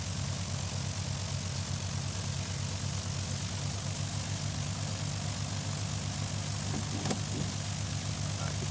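A Cessna 170 light airplane engine drones steadily through a low pass over a bush airstrip, a constant loud propeller hum with a throbbing low buzz, heard from inside the cockpit without any voices.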